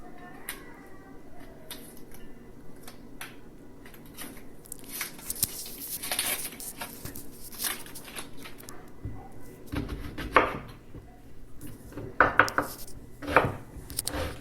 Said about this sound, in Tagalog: Gayatin ng sibuyas.